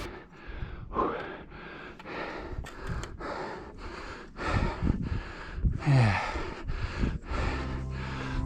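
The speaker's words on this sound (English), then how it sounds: "It's actually more my breathing than the lactic acid" Heavy, labored breaths from a hiker climbing the Half Dome cables in Yosemite, a steady run of close gasps and exhales with a few sharper snorts, no talking.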